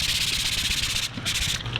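Hand sanding wood with 180 grit sandpaper wrapped on a sanding block, a steady continuous rasping scrape with close, even back-and-forth strokes and a brief lift near the end.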